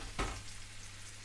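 A brief splash and sizzle as potatoes drop into hot oil, then a soft steady frying hiss.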